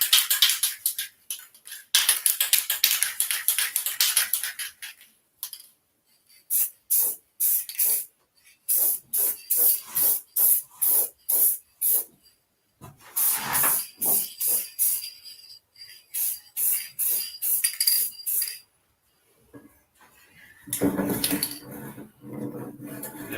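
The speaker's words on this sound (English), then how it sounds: "let's do our second coat of paint, and then we'll let her sit for a little bit" Aerosol spray paint going on as a second coat, heard as many short hissing bursts in quick succession with brief pauses between them, fairly close and loud with no talking.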